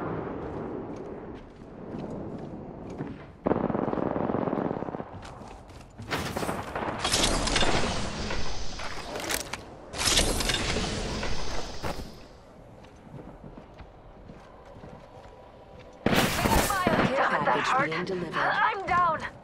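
Gunfire from Apex Legends, with a Rampart used for the shots: bursts of loud, sharp shots in clusters, along with explosions and game effects, mixed under in-game chatter.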